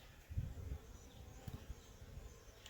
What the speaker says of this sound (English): a few bees that have mustered up the courage to go foraging on a cool day